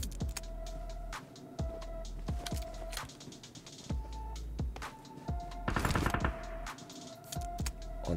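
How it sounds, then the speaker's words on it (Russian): Rapid bursts of automatic gunfire in PUBG Mobile Metro Royale, sharp repeated shots in quick runs with brief pauses, fairly quiet and without talk. "Он там по кому-то стреляет."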